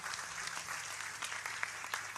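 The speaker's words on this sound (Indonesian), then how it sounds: "Tepuk tangan untuk haul malam hari ini." Audience at a night-time Islamic memorial gathering (haul) clapping, a steady, fairly faint wash of many hands with a few sharper claps standing out, heard from a distance.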